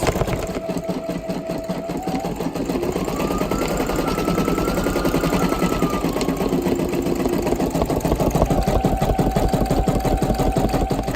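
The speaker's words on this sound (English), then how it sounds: "Just wanted to introduce you to my sewing machine and the machine embroider function" A Brother SE1900 sewing machine embroiders steadily and continuously, its rapid mechanical stitching whirring at a constant pace with shifting motor tones throughout, no voices.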